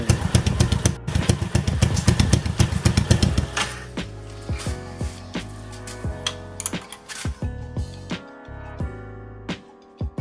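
Motorcycle engine fitted with a DBS exhaust, silencer removed, revving in loud uneven bursts and then settling into a rough, choppy idle with sharp pops, no voices.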